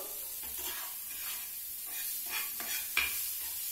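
Tomato goes into salted onions frying in oil, making a soft, steady sizzle with a few stirring scrapes and a brief sharper hiss near the end. No speech is heard.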